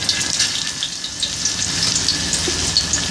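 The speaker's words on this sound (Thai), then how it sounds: "แล้วก็ฉีกออกมาแล้วก็เอาลงไปทอดนี่แหละจ้ะ" Balls of fish larb deep-fry in hot oil, bubbling and crackling in a constant rush with small bright pops scattered throughout.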